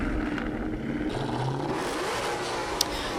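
A loud car engine revving at a nighttime car meet, a close, sustained mid-range roar that rises in pitch and holds steady, with a sharp pop near the end and no talking.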